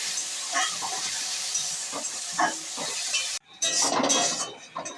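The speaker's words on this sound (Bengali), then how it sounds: "পেঁয়াজটা একটু লাল লাল করে ভাজা হবে।" Ground onion paste frying in hot oil with bay leaf until reddish, giving a dense, steady sizzle and hiss with scattered stirring clicks, a brief pause near the end, then the sizzle surges back.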